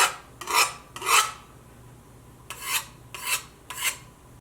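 A sanded-smooth Lodge cast iron skillet surface is rubbed in five distinct rasping strokes, two early and three later after a pause, each a loud, close scraping swish with no talking.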